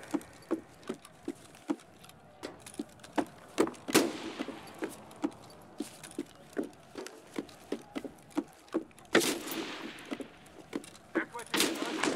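Rapid shots crack out in a run of evenly spaced reports, moderately distant, during a match in the video game Escape from Tarkov Arena, with a louder cluster near the end and players talking faintly underneath.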